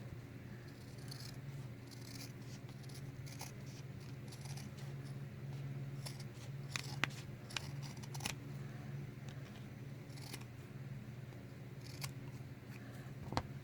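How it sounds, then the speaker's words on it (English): Scissors snip through fabric while cutting out a circle for a handmade shabby-style Christmas bauble ornament, giving a quiet series of soft, irregular close cuts over a steady low background hum. "you basically need to then just cut along here"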